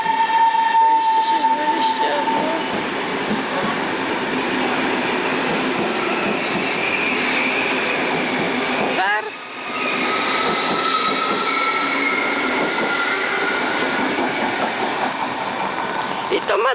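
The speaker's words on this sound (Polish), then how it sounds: "Ledwo maszynista opuścił perony, to on już jedzie w miarę szybko, więc to jest dziobak." A Polish 'Dziobak' electric passenger train pulls away from a station platform, its steady rolling rumble and wheel noise building over several seconds with a brief squeal and clatter midway, accompanied by faint voices.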